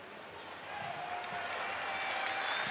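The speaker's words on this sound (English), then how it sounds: "they're giving him a nice round as he walks off" A crowd at an alumni basketball game between Syracuse alumni (Boeheim's Army) and Seton Hall alumni applauds an injured player limping off with a hurt right ankle. The steady, dense clapping and crowd noise runs throughout and swells slightly after the first second.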